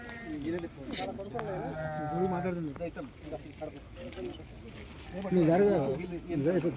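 Sheep bleat repeatedly, their wavering calls overlapping one another, with louder bleating returning toward the end.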